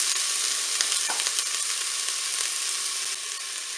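Food pieces dropped into hot oil in a Cookeo multicooker sizzle in a loud, even hiss, with a short clatter near the start, and the frying continues alone.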